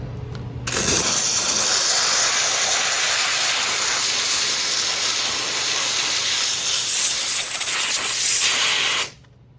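A steam cleaner blasts steam over a car engine during an engine cleaning with degreaser and brushes, a loud, continuous close-up hiss that holds steady for about eight seconds before cutting off abruptly.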